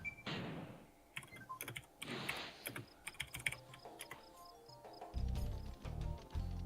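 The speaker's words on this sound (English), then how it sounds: "my keyboard's I- really loud" Loud clicking of a computer keyboard being typed on, rapid irregular keystrokes in bursts, close to the microphone, with a low thumping sound near the end.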